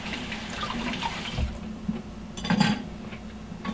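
Running tap water rinses a prepared artichoke in a kitchen, a soft steady splash that swells with a few louder gushes and splatters near the end.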